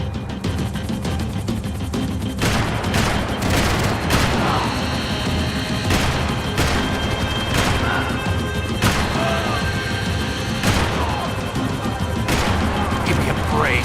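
Gunshots in the video game Max Payne 3 crack out in an irregular string of about a dozen sharp, loud bangs over a dense, busy action soundscape.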